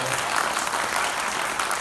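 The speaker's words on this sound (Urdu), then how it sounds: "ڈاکٹر مبشرہ کے لیے بھرپور تالیاں" An audience applauds warmly for a performer at a cultural event in Islamabad, with dense steady clapping that fills the space throughout, loud and unbroken.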